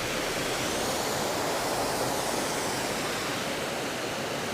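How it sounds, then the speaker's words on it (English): A subterranean waterfall inside Smoo Cave roars steadily and loudly, a dense unbroken rush of falling water with no voices. "there's actually a subterranean waterfall here as well"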